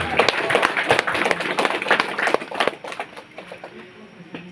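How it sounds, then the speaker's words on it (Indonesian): An audience claps together for a few seconds, the bursts thick and crackling at first, then thinning and fading out toward the end. "Tepuk tangan untuk itu"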